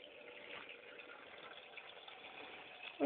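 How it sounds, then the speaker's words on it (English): Tap water running steadily for washing up, a continuous splashing gush close to the microphone, with a sudden loud knock right at the end. "I'll have to put the water on."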